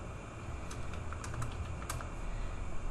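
Computer keyboard typing while a network switch is configured from the command line: a loose run of soft, quick keystroke clicks over steady background hum, close and fairly quiet.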